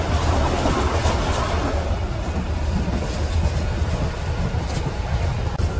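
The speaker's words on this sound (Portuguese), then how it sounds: "E o metrô já deu para notar que ele anda bem mais rápido, gente." Fortaleza metro train running at speed, a steady loud rumble of wheels on track with faint clickety-clack, heard from inside the carriage with no talking.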